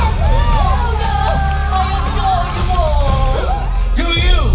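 An audience at a villains show at Disney's Hollywood Studios cheers and shouts loudly and continuously while a performer's voice carries over the crowd.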